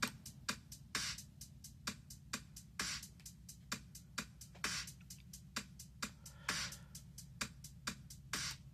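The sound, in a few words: drum beat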